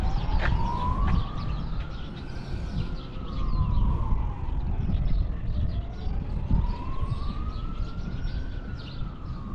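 A police car siren wails in slow rising and falling sweeps, sounding some distance off over a steady rumble of traffic and wind outdoors in New Zealand.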